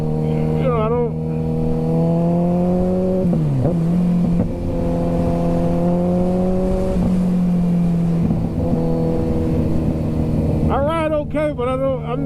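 A Kawasaki ZX-14R motorcycle engine hums steadily while the bike is ridden, holding a loud, close drone whose pitch dips and rises briefly with gear changes, and a rider talks over it throughout.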